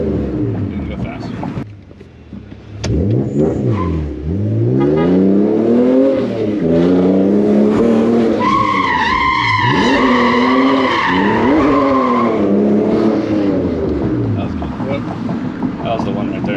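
BMW E46 fitted with BC Racing suspension driven fast, the engine revving and wailing in repeated rising sweeps while the tyres skid and squeal, loud and close under wind noise with voices talking throughout.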